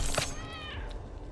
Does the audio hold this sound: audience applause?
no